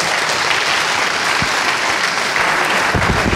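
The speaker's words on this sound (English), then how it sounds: "Applause!" Audience at a Linux storage conference talk applauds in a steady, moderately loud burst of clapping filling the room, with no talk over it.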